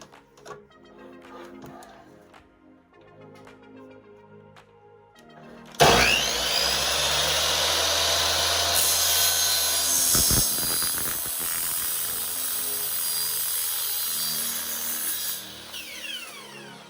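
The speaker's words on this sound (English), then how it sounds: "we take them to a miter saw with the diffuser and the channel connected" A miter saw spins up and cuts through aluminum LED channel with its diffuser attached, a loud, sustained high whine and grinding screech after quieter handling clatter, then winding down at the end.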